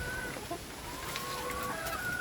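Chickens cluck softly nearby over a low background hum, with a few brief higher calls scattered through.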